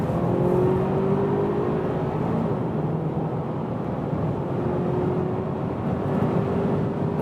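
Audi A4 in dynamic mode accelerating hard on the road, a steady loud engine and road roar from inside the cabin with a rising whine, sustained throughout without speech.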